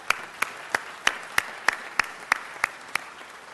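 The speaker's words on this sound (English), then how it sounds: "Let's give them all a huge round of applause." Sharp, evenly spaced claps, about ten in a slow steady rhythm, ring out at a city council meeting with a faint room hum behind them.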